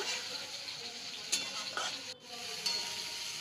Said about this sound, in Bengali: মশলাটাকে কষিয়ে নেব তেল ছাড়া পর্যন্ত